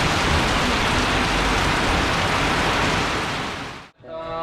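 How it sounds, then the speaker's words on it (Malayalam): Heavy rain pours down in a steady, dense roar close by, broken off abruptly near the end, with no voices. "പക്ഷെ ഭയങ്കര മഴ, ഒരു രക്ഷയില്ല."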